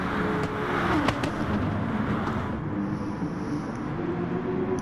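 Race cars thunder around a circuit in a GT3-class racing game, with a number 1 Porsche and a number 33 Aston Martin among them, giving a steady engine roar with a rising whine and no talking.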